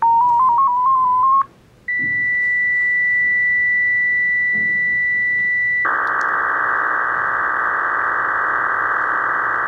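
A radio transmitter sends tones for digital mode operation: a short warbling tone, then a steady high whistle for several seconds, then a loud dense buzzing data burst to the end, close and alone with no voices.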